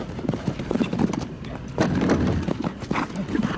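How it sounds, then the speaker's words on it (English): A show jumping horse at a grand prix jump-off hits the back rail of an oxer, heavy hoof thuds and a knock on the rail close by, crowd noise around. "that horse didn't like hitting that back rail of the oxer"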